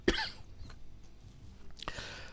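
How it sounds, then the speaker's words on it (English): A single short, sharp cough from a man close to the microphone, followed by quiet and a softer throat sound near the end. "excuse me, I'm going to cough."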